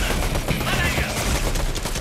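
Fortnite gunfire crackles in a dense, continuous stream of rapid shots close by, loud and steady throughout with no pauses.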